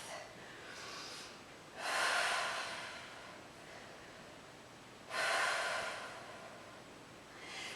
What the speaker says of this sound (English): Couple more deep breaths here.